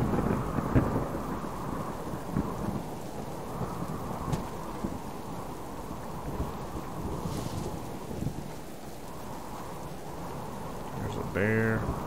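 In the survival game Subsistence, a steady rumble of rain and thunder rolls on through the whole stretch, a low, continuous storm bed with a brief sharper flourish near the end.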